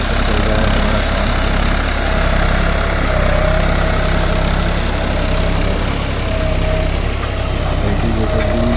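A tractor pulling a cultivator in a field during paddy-season land preparation runs with a loud, continuous low engine drone and a steady mechanical chug, with no talking.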